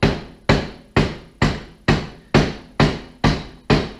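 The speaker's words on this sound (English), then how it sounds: "I like to just use a couple of light taps to mallet." Nine evenly spaced, sharp knocks as a light mallet taps a Hewland racing gearbox to break the seal on the gear stack, each hit close and crisp with a short decay, no talking.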